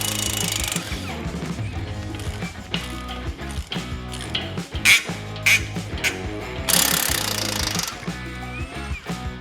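A power tool loosens the wheel bearing bolts on a John Deere 335D, a loud, close mechanical rattling hammer with rapid impacts and several sharp bursts that surge and drop as each bolt breaks free.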